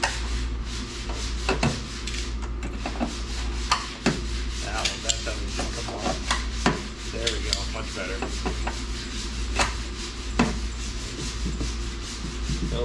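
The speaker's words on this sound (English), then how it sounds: "We'll just grind it down." Abrasive grinding on a car body panel, smoothing down welds before body filler; a steady, continuous rasping hum runs throughout, close and fairly loud, with repeated short scraping strokes and no talk.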